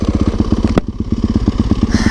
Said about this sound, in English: On my favorite bike, my 2019 Yamaha YZ450 FX Supermoto / Dual Sport